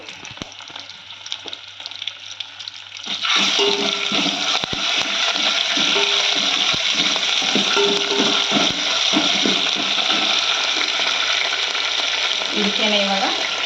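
Ginger garlic paste hits a hot pan and erupts into a loud, steady sizzle, frying continuously at close range after a quieter opening with faint scraping.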